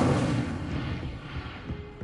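The Incendio fire spell goes off in Hogwarts Legacy as a heavy, roaring whoosh with a deep booming body that slowly rumbles and fades over two seconds, with no voices.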